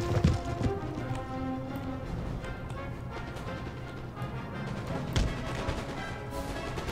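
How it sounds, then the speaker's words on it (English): Cavalry horses advancing in Empire Total War, a rapid clatter of many hooves clip-clopping with scattered battle thuds in the background, steady and moderately loud, no talking. "Let's move up a regiment of horse."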